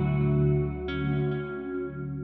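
A sustained guitar chord through an EarthQuaker Devices Dispatch Master digital delay and reverb pedal rings out with a shimmering, washed tail, a brief bright accent near the middle, and slowly decaying echoes.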